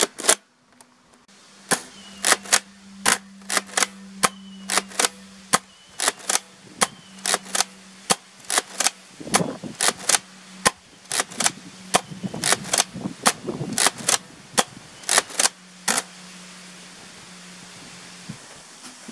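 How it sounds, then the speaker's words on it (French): A Nerf Mega Thunderhawk blaster fires standard mega darts in a long run of sharp, loud snapping shots at irregular intervals, close up, over a steady low mechanical hum with some scraping and handling noise between shots. "Je vais tirer les fléchettes méga normales"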